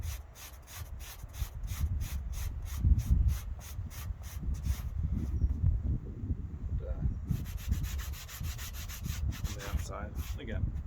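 An abrasive is rubbed back and forth along the taut sleeve seams of a leather jacket to weather it, making a close, dry, rhythmic scraping in repeated strokes with brief pauses between passes.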